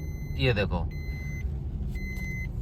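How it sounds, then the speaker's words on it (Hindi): A Maruti Suzuki car's seat belt warning chime sounds while driving: two steady electronic beeps over low engine and road rumble, with someone speaking briefly before them. "सीट बेल्ट की आवाज भी आपको सुनाई दे रही होगी, बीप बीप की।"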